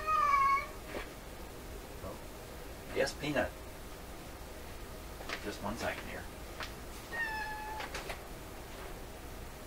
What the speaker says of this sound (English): That was my cat asking to go in our back bedroom.